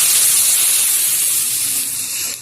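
Water hits a hot pan of taro and masala for a fish head curry, bursting into a loud, close, hissing sizzle that starts strong and slowly eases off over a couple of seconds.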